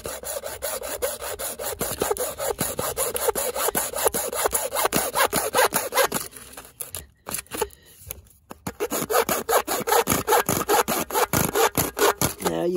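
A hand saw cuts at an angle through material in steady, rapid back-and-forth rasping strokes, close and loud, with a short pause and a few uneven strokes before the rhythm resumes.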